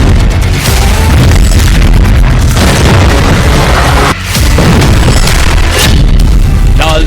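Heavy bombardment of a military base, with dense, overlapping booming blasts and deep rumble. The sound is very loud and nearly continuous, with one brief dip partway through.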